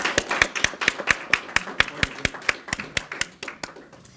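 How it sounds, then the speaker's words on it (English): A conference audience applauds panelists at the close of a university public policy session, with steady, evenly spaced claps ringing out close and fairly loud for about four seconds. "I appreciate your clapping for our panelists"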